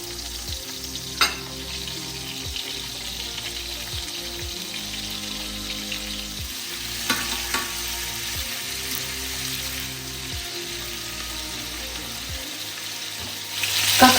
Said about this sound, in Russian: Включаю сковородку и начну обжаривать котлетки на среднем огне.